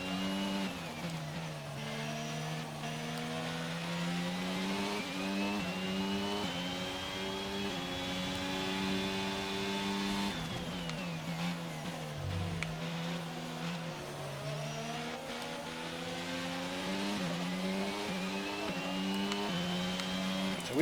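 A Formula 1 car racing at Zandvoort in F1 22, its engine wailing through repeated rising upshifts and falling downshifts, steady and close, with a brief lift and drop in revs midway.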